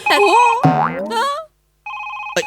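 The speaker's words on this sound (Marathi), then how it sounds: "फोन आला पण फोन- फोन आला" A phone rings with a bright, tonal electronic ringtone, sounding in loud repeated bursts with a short silent gap in between, heard alone.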